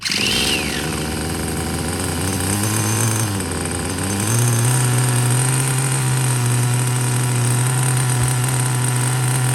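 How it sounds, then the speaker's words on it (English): A Sportwerks Reaction nitro RC car engine idles loudly and close, a continuous buzzing drone that dips and wavers midway before settling into a steadier, stronger hum. "We're just going to idle through this tank and see what she does."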